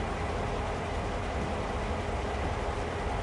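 CSX heavy haul freight train in the Train Sim World video game: a steady, dense rumble of rolling wagons and running gear, constant and moderately loud with no talk over it.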